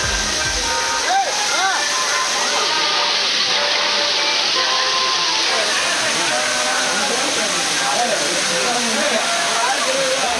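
Thirparappu waterfall in Kanyakumari pours down in a dense, steady roar, with faint crowd voices of bathers mixed into the continuous rush.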